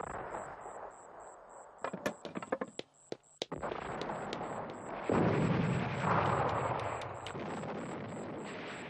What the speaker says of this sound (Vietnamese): súng đang nổ âm âm